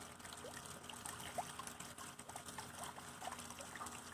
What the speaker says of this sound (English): it's right by my pond now, which you may be able to hear in the background